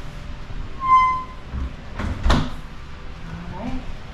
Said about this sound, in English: that you're hearing is the door automatically locking